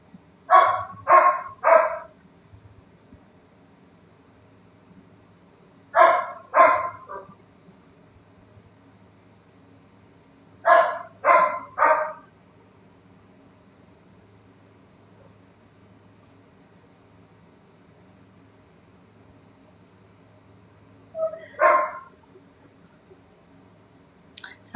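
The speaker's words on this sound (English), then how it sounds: "Samuel never barks. He's barking now." A dog named Samuel barks in short bursts of two or three sharp yaps, repeated about every five seconds, fairly close against a quiet background.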